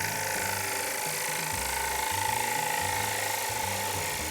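A bowl gouge takes a finishing cut on a large wooden bowl spinning on a lathe, making a loud, steady whirring hum that rises and falls in regular pulses.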